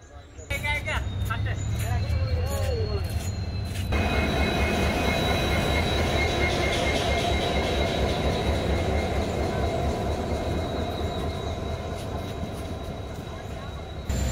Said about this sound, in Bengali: আই গেছি আমরা ট্রেন দুলভচড়া গুয়াহাটি এক্সপ্রেস।